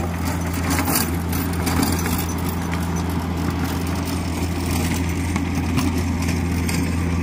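Tractor-driven implement spinning as it works and breaks up farm ground, a steady loud mechanical drone with a constant low engine hum and rough grinding texture throughout.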